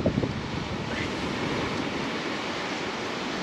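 Strong wind blowing outdoors beside a camper van, buffeting the microphone with a continuous loud rushing roar and no talking.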